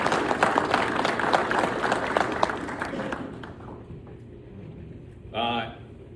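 A memorial gathering for a longtime high school head coach breaks into dense applause that fades out after about three seconds, followed by quieter room sound and a brief voice.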